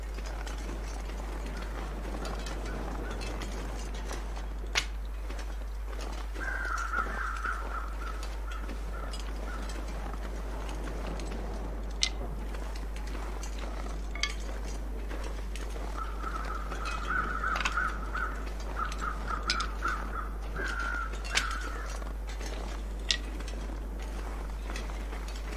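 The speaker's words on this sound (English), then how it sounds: "I hear some crows." Crows caw in a snowy wilderness survival game, short harsh calls in a few scattered bursts, fairly distant, over a steady low ambient hum with occasional small clicks and footsteps.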